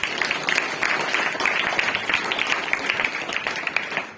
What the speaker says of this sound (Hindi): थोड़ा एक बार ताली बजाएंगे।